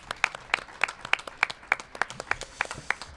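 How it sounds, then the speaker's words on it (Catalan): Sparse applause for Òmnium at a Sant Jordi event, a few distinct hands clapping in a steady, evenly spaced rhythm, close and fairly crisp throughout. "Un aplaudiment per Òmnium"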